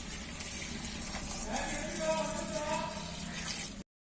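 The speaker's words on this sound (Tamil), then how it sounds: "அடுத்ததா தண்ணி ஆட் பண்ணிக்கலாம்." Water is poured into a pot of breadfruit curry with a steady gushing splash lasting a few seconds under faint kitchen background, then it stops abruptly.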